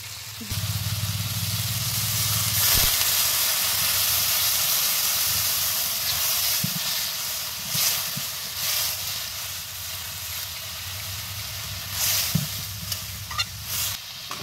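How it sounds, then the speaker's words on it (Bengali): Chicken curry broth cooked home-style in a pot, a steady loud close hiss and sizzle with bubbling, plus occasional stirring knocks and a low rumble underneath. "তো জল দেওয়া হয়ে গেছে তরকারিতে, আর এবার ঝোলটা ফুটে যাক"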